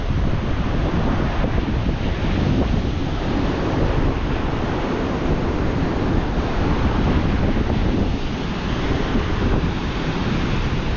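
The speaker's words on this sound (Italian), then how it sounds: "Guardate il mare, che potenza." Powerful ocean surf at Byron Bay, Australia's easternmost point, a loud continuous roar of breaking waves with heavy wind buffeting the microphone throughout and no voices.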